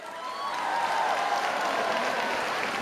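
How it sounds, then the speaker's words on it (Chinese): Audience applause for a women's doubles badminton exhibition match in Hong Kong, a short burst of steady clapping from a crowd in a large hall, moderately loud and without talk. "让我们掌声送给田卿还有赵云蕾"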